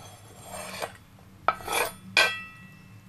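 Smoked chicken being tipped into soaked bran in a bowl, giving three separate clinks and scrapes of utensil on the dish with a short scraping rustle between them, close and distinct over quiet room hum.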